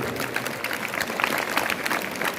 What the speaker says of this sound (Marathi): जोरदार टाळ्या झाल्या पाहिजे या माझ्या भावासाठी